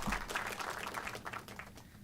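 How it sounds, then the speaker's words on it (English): A small group applauds quietly, with a brief patter of steady clapping that thins slightly toward the end. "I'm gonna give Izzy this applause is for you"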